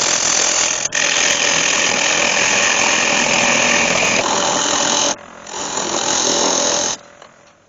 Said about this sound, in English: I'm just touching that with my chisel and that's just falling away.